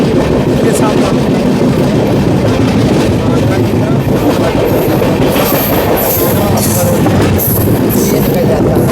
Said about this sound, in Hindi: और हमारी ट्रेन बढ़ चुकी है दिल्ली वाले सेक्शन में।